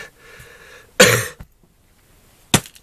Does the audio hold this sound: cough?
yes